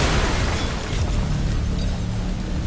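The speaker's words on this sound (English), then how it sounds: "One of the side missions is literally just going inside a house and pressing a button right at the beginning to set an explosion off." An explosion in the video game Hatred, set off by pressing a button inside a house, gives a loud, deep rumbling boom that stays dense and roaring through the whole short stretch.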